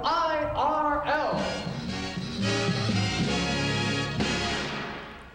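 Early WIRL top 40 radio station jingle from Peoria, a sung, brassy station ID with vocal harmonies over a full band, loud and continuous throughout with rising and falling melodic phrases.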